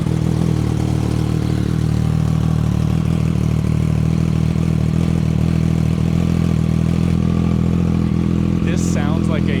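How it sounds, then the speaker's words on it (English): A Triumph Street Triple fitted with an SC Project exhaust idles after a cold start, a loud steady low engine rumble with clattery mechanical texture throughout, and a voice speaks briefly near the end. "This sounds like a race prep motorcycle ready to go on a track."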